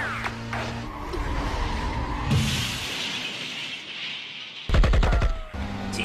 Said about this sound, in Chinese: 射击！